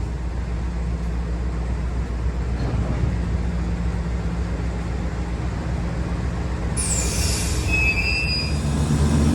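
Steady rumble of a freight train rolling slowly in Staffordshire, England, then a high, piercing wheel squeal rises and holds near the end as it brakes to a stop.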